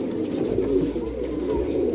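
A pair of Guldar pigeons coo in a steady, low, throaty murmur, close and continuous, with no talking.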